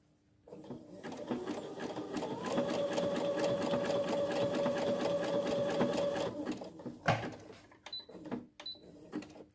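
A sewing machine stitches zigzag appliqué in a fast, even run of needle clatter lasting several seconds, close and fairly quiet, then stops. Scattered clicks and handling noises follow.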